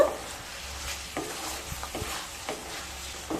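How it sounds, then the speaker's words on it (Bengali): Capsicum potato masala stirred in a frying pan, a steady scraping and rustling with soft sizzle underneath and a few louder spoon strokes at irregular intervals, close and moderately loud. "এবার খুব ভালো মতো মিশিয়ে নেব।"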